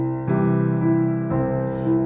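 Piano chord played with a grounded left-hand root accompaniment under right-hand notes, two sustained chord strikes about a second apart, close and full with ringing low harmonics, no talking.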